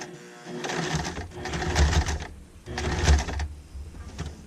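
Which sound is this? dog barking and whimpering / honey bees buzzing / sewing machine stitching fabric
sewing machine stitching fabric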